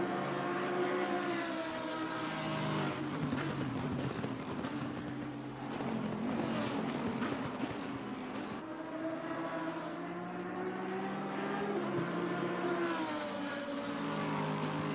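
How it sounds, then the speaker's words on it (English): Race cars circling a track at night in a racing simulator at Silverstone, a steady, dense engine drone with rising and falling revs that continues unbroken throughout. "Love the sound of cars at night on the track like this."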